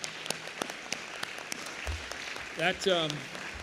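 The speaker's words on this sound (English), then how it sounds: "give everybody a round of applause for this evening's activity" Steady crowd applause with scattered sharp claps at the close of a Massachusetts state senate debate, with a brief spoken voice breaking in near the end.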